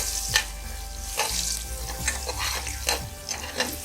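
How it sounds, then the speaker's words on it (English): Green chilies and ginger frying in a pan hiss in a steady sizzle, broken by regular scraping stirs of a spoon every half second or so. "So add the green chilies as per your taste"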